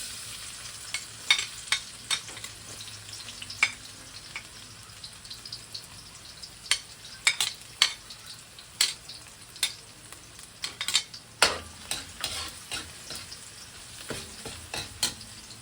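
Garlic frying in coconut oil for a beef mechado crackles in a pan, with sharp irregular pops and spatters over a faint steady sizzle, close and fairly quiet.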